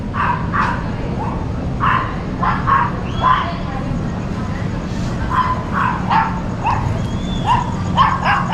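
Dogs yapping and barking repeatedly at a distance over a steady outdoor rumble, with people's voices mixed in, at a mall in Imus, Cavite, Philippines.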